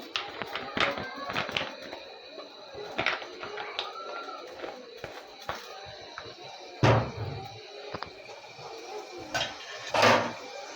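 A wok set on a stove and oil added, a scattered series of metallic clanks, taps and knocks with a couple of louder bangs, heard close in a kitchen with no talk.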